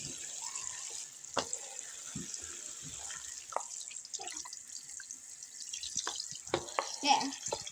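A fidget toy puppet is rinsed under a running tap, with steady water flow and scattered drips and splashes close to the microphone.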